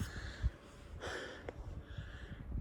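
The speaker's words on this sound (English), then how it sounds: "you can hear heavy breathing." Heavy, labored breathing of a hiker climbing at night near the base of Boynton Pass; a few close, breathy gasps and huffs, fairly quiet, with no talking.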